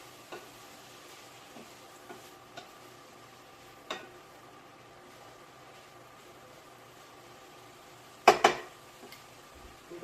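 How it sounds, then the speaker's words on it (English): Tofu, peppers and potatoes are stirred in a pan with a spoon, giving faint scrapes and soft clicks against a quiet sizzle, then a louder clatter of utensil on cookware near the end. "Mix our tofu."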